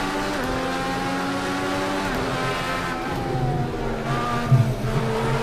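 Race car engine in the Project CARS 2 racing game, loud and continuous, holding steady revs then shifting pitch through gear changes around a corner, no talk.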